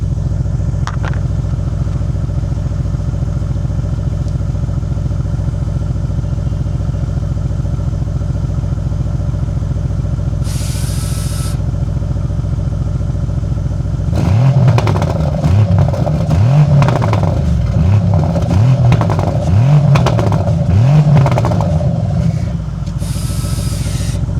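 After a stretch of low idle, a 2025 Bentley Continental GT exhaust barks through a series of sharp, loud revs in quick succession, rumbling close to the ground.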